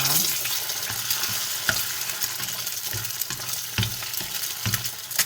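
An egg fries in a little oil as the base for fried rice, crackling and sizzling steadily with occasional sharper pops and scraping stirs, and no one speaks.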